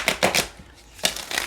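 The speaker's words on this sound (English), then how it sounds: "let's get one more good shuffle and then we'll go ahead" A deck of tarot cards being shuffled, with several short riffling bursts early on, a quiet pause, then another flurry of shuffling, close and moderately loud.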